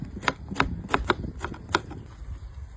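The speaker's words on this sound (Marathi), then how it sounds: "टमाटे कट करून घेऊ" A knife chops tomatoes for a street-style veg Maratha gravy: about half a dozen crisp, irregular taps against a board over roughly two seconds, close and fairly quiet, with no talking.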